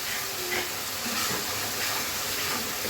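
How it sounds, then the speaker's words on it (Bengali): Coriander and chili powder sauté in a pan with a continuous hissing sizzle, even and unbroken, with no voices. "সবগুলো মশলা খুব ভালো মতন কষিয়ে নিতে হবে এখন সময় নিয়ে।"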